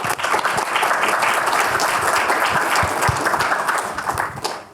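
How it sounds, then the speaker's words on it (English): Sustained, dense audience applause at a political analytics panel event, loud and steady throughout with no speech over it. "Please give him a warm round of applause."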